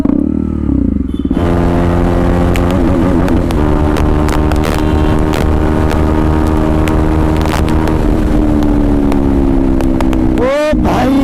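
A motorcycle is ridden and drifted on worn tyres, its engine a loud, close, steady drone that rises and shifts in pitch as the throttle changes, with a sharp whine near the end.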